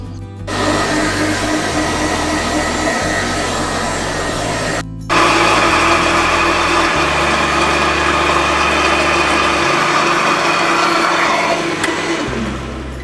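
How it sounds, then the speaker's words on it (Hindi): A kitchen blender grinds almonds for almond sharbat, a loud steady motor whir that runs continuously, cuts out briefly near the midpoint, then resumes at full strength with shifting low tones as the nuts break down. "बादामों को हमने 7 मिनट ब्लेंड करना है, ये बिल्कुल बारीक हो जाने चाहिए।"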